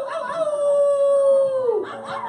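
A voice howls like a dog in one long, sustained, wavering note that drops at the end, loud and close, as an audience imitates dogs at a drag queen story hour event.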